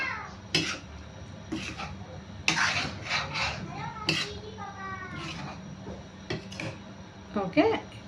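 A utensil scrapes and rubs in a pan while chicken Maharani curry is stirred lightly, giving intermittent scraping and clinking strokes at moderate loudness. Someone talks between the strokes.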